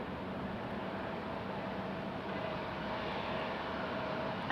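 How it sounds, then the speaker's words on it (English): A JetBlue airliner at Raleigh-Durham International Airport gives off a steady, even jet engine roar with a faint tonal whine, moderately distant and unbroken for the whole stretch. "Another JetBlue."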